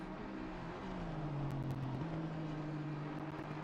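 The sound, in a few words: Audi race car engine revving in a racing video game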